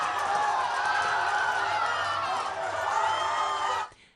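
Stadium football crowd roaring after a goal by Paquetá, the number 7, in Brazil: a dense, loud wall of cheering and whooping sustained for about four seconds before cutting off abruptly.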